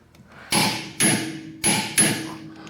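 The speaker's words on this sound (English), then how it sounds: "I can get that in there, up there, and you'll hear it click." A torque wrench set to 85 pounds clicks as it tightens bolts holding an adapter to a yoke, four sharp metallic clicks spaced about half a second apart, close and clear with no talk.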